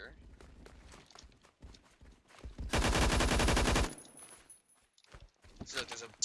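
An AUG HBAR rifle in Phantom Forces fires a loud, sustained automatic burst of about a second, set between quieter in-game footsteps and shuffling movement.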